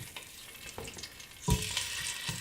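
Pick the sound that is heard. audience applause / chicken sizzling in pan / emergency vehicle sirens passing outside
chicken sizzling in pan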